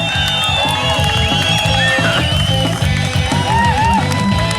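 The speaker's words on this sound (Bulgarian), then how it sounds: "Аплодисменти." Crowd applause and cheering at an outdoor motorcycle rally in Balchik, a steady loud wash of clapping and voices with a rhythmic thumping beat underneath throughout.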